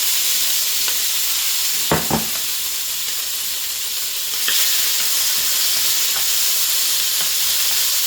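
Raw shrimp fry in avocado oil over medium-high heat, a constant loud hissing sizzle with a couple of brief utensil clicks, close and alone without talk.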